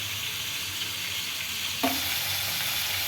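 Chicken fries in a kadai with onions and ginger-garlic paste, a constant sizzle that briefly jumps as tomatoes drop in, then keeps crackling steadily.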